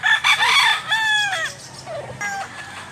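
A rooster crows loudly and close by, a rising then falling call, followed by a shorter fainter crow and some clucking.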